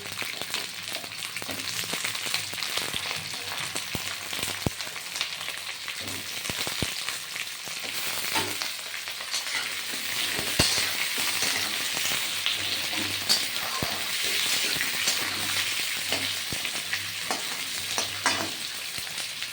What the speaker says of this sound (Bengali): কুমড়ো আর পটল ভাজা হলে একটু ভাজা ভাজা হলে